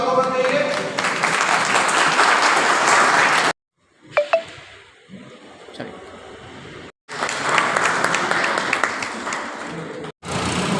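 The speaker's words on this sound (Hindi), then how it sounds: "जरा तालियों से स्वागत होना चाहिए।" An audience at a Bahujan seminar in Delhi applauds to welcome a guest, with two long bursts of dense clapping separated by a quieter stretch in which voices are heard.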